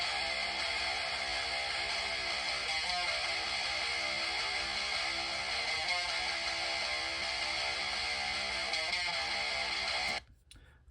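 Two heavily distorted rhythm guitars, quad-tracked and panned hard left and right, chug a dense, sustained wall of sound for about ten seconds with brief rhythmic breaks, then cut off abruptly.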